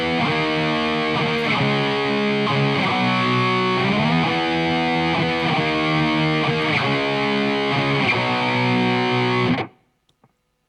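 A heavily distorted electric guitar chugs through a riff, loud and driving with repeated slid chord strums, then stops abruptly into silence near the end.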